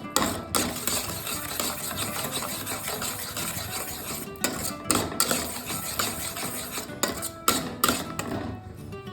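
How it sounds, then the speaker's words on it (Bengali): A spoon stirs red chilli powder and salt through a Bengali fish curry in a pan, giving close, continuous scraping and rubbing sounds with sharper knocks against the pan now and then, and no voices. "আর দিয়ে দিচ্ছি স্বাদ অনুযায়ী লবণ। দিয়ে ভালো করে মিশিয়ে নিচ্ছি।"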